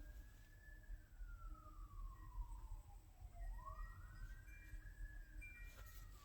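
A faint siren wails in the distance, its pitch sweeping down and back up once under steady low rumble of wind and rain.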